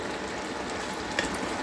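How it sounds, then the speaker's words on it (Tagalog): Beef frying and sautéing in a home kitchen pan, a steady close sizzle with a faint clink near the end, no voices. "Piniprito ko nga pala muna yung beef. Yan. Ayan na siya. Gigisa na natin ngayon."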